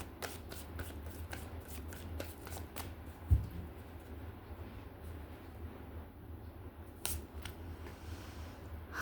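A tarot card deck being shuffled, soft quick riffles and flicks of cards close up, with a brief bump partway through and more riffling near the end, quiet overall and without talking.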